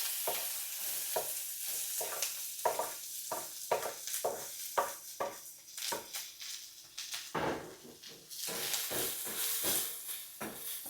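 Onions frying in a pan for street-style Maggi, with repeated stirring strokes scraping and clicking in an uneven rhythm over a soft sizzle, fairly quiet and close, with no talking.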